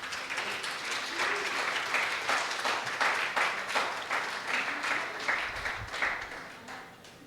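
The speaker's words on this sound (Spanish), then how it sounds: "Denle un aplauso al Señor" A church congregation applauds during a service, with dense continuous clapping of moderate loudness that swells and fades over several seconds without talk.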